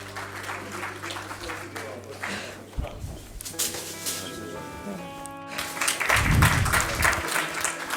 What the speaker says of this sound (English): Can we have a huge round of applause for Medanta, the Medicity?